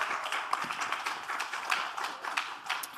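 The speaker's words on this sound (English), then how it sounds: "let's give her a round of applause" Audience at a W20 South Africa inception meeting applauding, a steady wash of scattered hand claps from a modest crowd, fairly faint and continuous with no talk over it.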